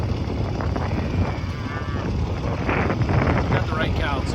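On a snowy farm during a blizzard, a cow lows with faint wavering moos partly buried under heavy wind roar, while a person talks nearby.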